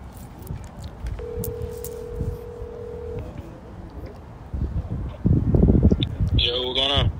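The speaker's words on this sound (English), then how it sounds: "call him and put on speakerphone" A phone on speakerphone places a call: a single steady dial tone sounds for a couple of seconds over outdoor background noise, then voices speak close by.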